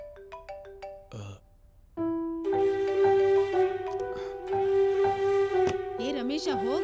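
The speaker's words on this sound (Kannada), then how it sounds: "ಫೋನ್ ರಿಂಗ್ ಆಗ್ತಾ ಇದೆ ನೋಡು" A mobile phone ringtone plays a melodic pattern of pitched tones, starting alone and then continuing under music-like tones or background sound, fairly clear and close in an indoor home setting.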